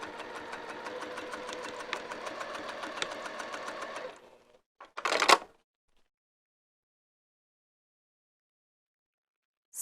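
Sewing machine stitching across the edge of a vinyl wrist pouch strap, a steady fast mechanical whir for about four seconds, then a brief rattle and a short louder burst before silence.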